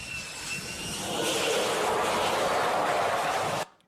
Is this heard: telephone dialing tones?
no